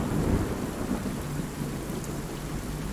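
Heavy rain pours down with low rumbling thunder rolling underneath, a dense, continuous storm wash that stays loud and steady with no voices.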